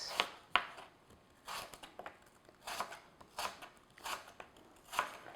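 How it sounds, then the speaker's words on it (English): A sharp knife slices thinly through apples on a board, making faint, crisp cuts that repeat in an uneven rhythm roughly every half second. "just with a sharp knife, just thinly slice"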